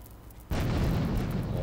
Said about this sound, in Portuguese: Acho que eu vou ter que acertar uma granada ali.